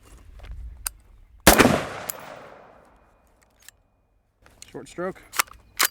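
A single sharp, loud unsuppressed 5.56 rifle shot with 62-grain ammunition cracks from a LAW Tactical ARIC-equipped MCX and rings out in a long decaying echo; brief talking follows afterward.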